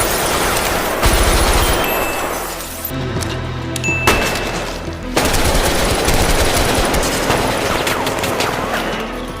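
Loud, dense gunfire from a gun battle rattles in rapid automatic bursts, with sharp cracks and a brief glassy shattering mixed in, nearly continuous throughout.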